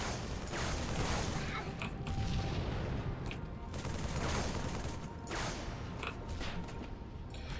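Dense, continuous gunfire in Halo 3 on PC, with rapid bursts and booms overlapping loudly throughout, like a chaotic multiplayer firefight; faint voices may sit underneath.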